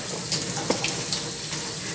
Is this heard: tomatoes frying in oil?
no